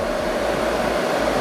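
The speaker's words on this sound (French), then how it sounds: "mettre la vitesse que l'on veut de la ventilation" The air conditioning fan in an old car blows a steady, loud rush of air with a constant tonal whine, unbroken and with no talking.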